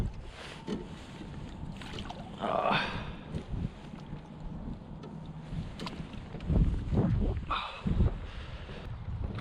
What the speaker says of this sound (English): Major wind direction change.